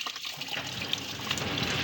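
Water draining from a Mitsubishi Lancer radiator during a coolant flush, a continuous close splashing gush of liquid with no break, steady in loudness throughout.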